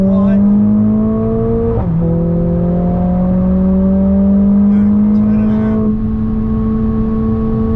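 Mercedes-AMG GT R Pro 2021 on a race track, its engine droning loud and steady as it pulls hard, the pitch rising through the revs with a brief dip at a gear change, heard close from inside the car.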